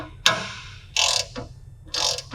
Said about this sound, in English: Set your torque wrench to 80 inch-pounds and then just tighten them in evenly.